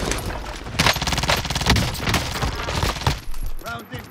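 Dense rapid gunfire from Warzone, the shooter video game, rattles in loud overlapping bursts and volleys through most of the stretch, with a short lull near the end.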